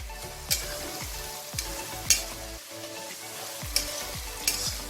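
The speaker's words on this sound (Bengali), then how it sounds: "এটাও সবজির সাথে হালকা ফ্রাই রোস্ট হয়ে যাবে" Fried rice sizzles with vegetables in a hot pan, a steady frying hiss broken by regular scraping stirs of a spatula about every half second, close and without speech.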